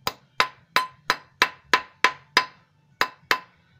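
A metal spoon ring is reshaped with about ten sharp, evenly spaced hammer blows, each ringing briefly before the next strike.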